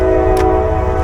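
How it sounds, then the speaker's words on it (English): A passing train sounds its horn in a loud, steady, sustained blast that carries through the whole moment. "apologize for the train. I don't know if you guys can hear that"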